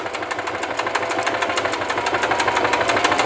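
Singer 3232 sewing machine stitching a seam at speed under foot-pedal pressure, a fast regular needle clatter with a steady motor hum, close and loud, no talking.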